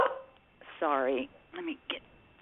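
A pet dog makes short whimpering yips and a drawn-out whining bark indoors, loud and close, in a few separate bursts.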